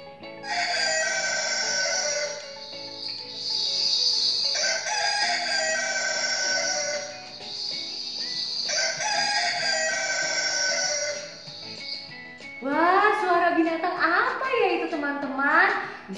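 A rooster crows three times in long, loud, drawn-out calls with brief pauses between them. Softer clucking follows at the end.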